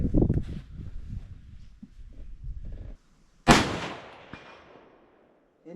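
A sharp, loud report from a .308 rifle at an outdoor range cracks out suddenly and rings away over a couple of seconds, preceded by rustling handling noises.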